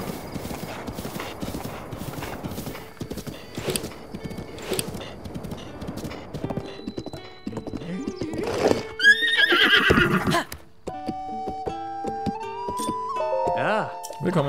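Horse neighing and hoofbeats in Zelda: Breath of the Wild, with steady clip-clop of hooves through the first half, then a loud close whinny, followed by game music tones; someone talks over the hoof sounds.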